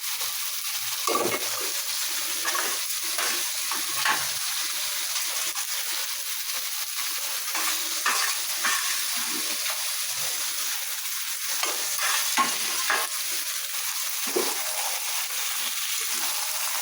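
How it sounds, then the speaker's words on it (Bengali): Meat, half-cooked, stirred in a pan with fried onions and fried potatoes: continuous sizzling frying noise with repeated scraping and clattering stirs, close and fairly loud, with no talking. "আমার মতো কে কে এইভাবে মাংস রান্না করছেন"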